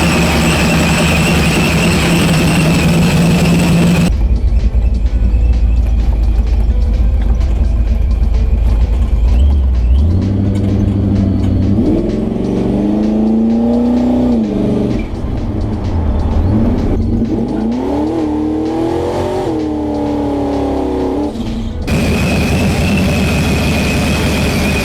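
A truck fitted with Holley Sniper fuel injection drives along, its engine droning steadily and loud with rising and falling pitch through gear changes, heard from inside with constant road rumble.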